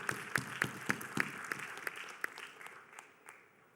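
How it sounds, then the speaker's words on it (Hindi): A hall audience keeps clapping at a youth parliament event, sharp individual claps over a crowd wash that gradually thins and fades toward the end. "तालियां बजती रहनी चाहिए।"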